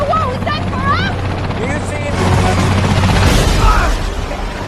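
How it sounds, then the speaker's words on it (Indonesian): A helicopter in a film scene, a loud steady rotor roar building midway, heard under dramatic music and voices. "mereka semua pun bergegas pergi dengan menggunakan helikopter yang sudah menunggunya"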